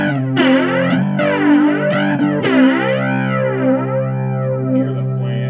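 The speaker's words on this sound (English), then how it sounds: "Hear the flange work." A three-string cigar box guitar played through a Roland Micro Cube GX amp with flanger on, its strummed notes sweeping in a pronounced whooshing comb pattern, sustained and close, with a few fresh strums.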